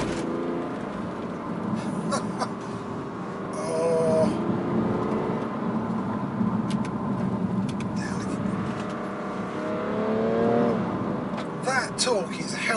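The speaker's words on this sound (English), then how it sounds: "I'm accelerating uphill with such ease." A BMW 435d M Sport diesel car accelerating uphill, its engine a moderate steady drone rising in pitch in places, heard under continuous talking inside the cabin.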